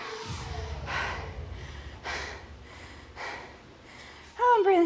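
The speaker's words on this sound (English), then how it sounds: "I'm breathing heavy." A woman recovering from a hard CrossFit-style workout breathes heavily, with several rough, evenly spaced gasping exhalations close to the mic. Her breaths are followed by a brief louder burst at the end.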